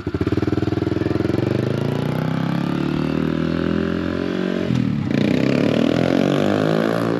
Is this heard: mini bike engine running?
yes